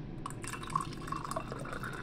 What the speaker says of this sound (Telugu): తర్వాత హాట్ వాటర్ అండి